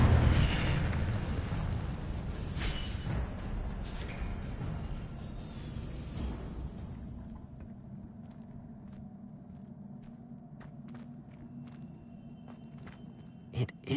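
The Incendio fire spell in Hogwarts Legacy bursts out as a loud roaring whoosh, then fades into a long low rumbling tail, with a few faint clicks near the end.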